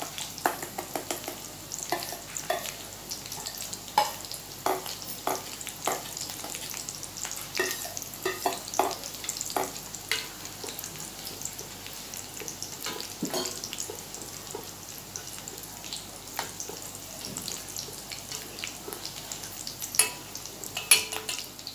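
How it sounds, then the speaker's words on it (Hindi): Rice stirred in boiling milk in a pot for a Karva Chauth festive thali, a steady bubbling sizzle with repeated scraping stir strokes, close and moderately loud, with no talking. "ये हमारा दूध उबल गया है, इसमें चावल डालेंगे।"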